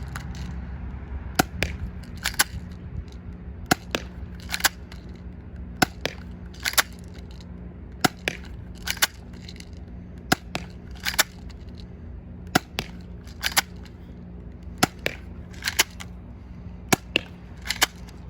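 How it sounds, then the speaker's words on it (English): A Walther PPQ airsoft spring pistol with a suppressor fires 0.20 g BBs at a cardboard box. About twenty sharp, dry snaps come at irregular intervals over a faint steady background hum, with no talking. "Now we're gonna shoot .20 gram BBs at the box again. This time with the suppressor."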